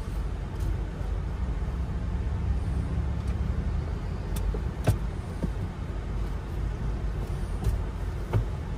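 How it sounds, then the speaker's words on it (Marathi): Car being driven on a road, with a steady engine and road hum throughout and a few brief clicks and knocks from inside the cabin. "आरोही गाडी चालवणार आहे."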